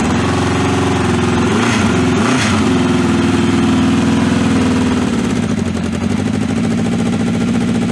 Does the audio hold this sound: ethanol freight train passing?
no